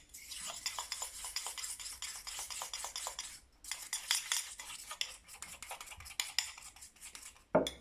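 A fork whisked rapidly in a bowl through a shortbread glaze mixture, giving quick, scraping, rhythmic clinks and rubs up close, broken by one short pause and ending with a sharper knock.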